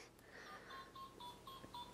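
A cell phone being dialed, with a run of short evenly spaced key tones for about two seconds at low level, then a sharp sudden click or clatter right at the end.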